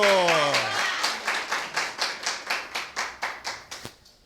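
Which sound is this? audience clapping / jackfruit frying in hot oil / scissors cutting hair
audience clapping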